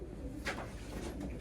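Red checker pigeon cock cooing at a bird show and auction, soft low coos rising briefly at moments over a steady murmur of crowd noise.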